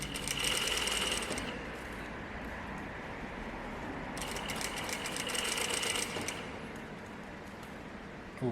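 A sewing machine stitches a back tack on shirt fabric, running steadily for several seconds with two brighter, busier bursts at the start and again midway. The whirring is close and there is no talk.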